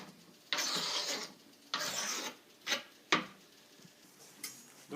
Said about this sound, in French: toutes nos tomates sont en cubes. Je mets tout dans le bol.